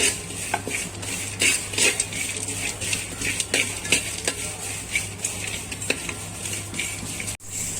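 Whole spices including cloves and cardamom dry-roast in a pan for curry masala powder, stirred with a utensil that scrapes and clinks in a quick repeating rhythm over a faint crackle.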